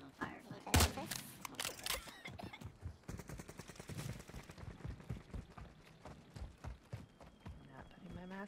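Gunfire in a low-gravity battle royale video game mode, with scattered shots and short automatic bursts at moderate volume amid busy game sounds, including a sharp crack near the start.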